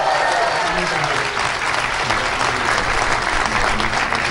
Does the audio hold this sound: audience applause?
yes